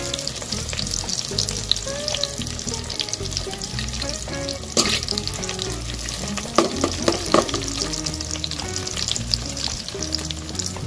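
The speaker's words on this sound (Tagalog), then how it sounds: "Ayan, fry lang ng konti guys." Squid balls fry with sliced okra, bitter gourd and eggplant in a pan, giving a continuous close sizzle broken by scraping and clinking stirring sounds.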